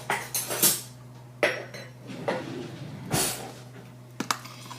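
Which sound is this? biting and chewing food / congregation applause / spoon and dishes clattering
spoon and dishes clattering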